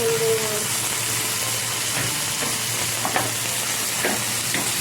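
Chili powder and spices fry in hot oil in a pan over a medium gas flame while a gurjali fish curry with yogurt is being made, giving a steady, close sizzle with occasional soft stirring scrapes.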